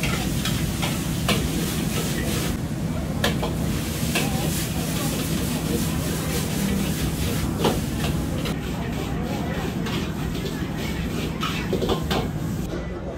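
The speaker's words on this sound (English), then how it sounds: "Been watching the guy cook, so looks like lots of wok hei, lots of power when he's cooking." Beef chow fun noodles stir-fried in a wok at a food court's Tin Tin Kitchen, a steady loud sizzle with scraping and clanks over a roaring burner and busy background noise.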